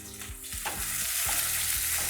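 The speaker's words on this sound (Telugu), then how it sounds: "జాపత్రి లవంగాలు దాల్చిన చెక్క ఇవేసి కాస్త నూనెలో వేగాలి" Mace, cloves and cinnamon sticks sizzle in hot oil in a pan, a loud close crackling hiss with a few rhythmic stirring scrapes, no voices.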